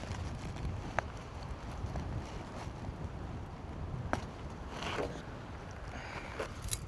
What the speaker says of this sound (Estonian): Tuul on ikka nii kõva